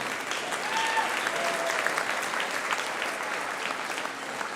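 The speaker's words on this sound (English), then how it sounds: "Let's give a round of applause for all that we raised." Sustained audience applause at a school band festival concert, a dense steady patter of many hands clapping throughout with no other sound standing out.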